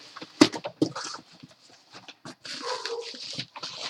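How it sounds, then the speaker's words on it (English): A dog barks a few sharp times, loud and close, followed by quieter yelps and whining over a busy background. "Barking for no good reason."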